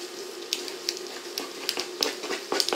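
Vegetables tossed all at once into hot olive oil in a pan sizzle softly, with a low steady hiss and scattered sharp crackles and pops.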